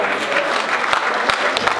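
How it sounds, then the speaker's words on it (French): Applause at a religious wedding ceremony, a steady wash of many hands clapping close by, with a few sharper individual claps standing out near the end. "Merci, messieurs, d'applaudir pour nos femmes,"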